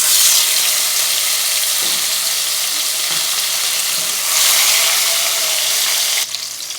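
Chopped medium tomato dropped into hot fried spice tempering in a pan sizzles loudly and steadily, a dense close-up hiss that swells midway and cuts off near the end.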